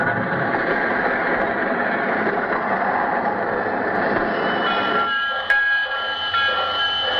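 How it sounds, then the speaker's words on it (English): Radio sound effect of a train pulling into a railroad station, built from four records on separate turntables: a steady loud rumble and clatter that eases near the end, with hissing and a sharp high squeal or whistle in the final seconds. "Our story begins with our hero's train pulling into the railroad station."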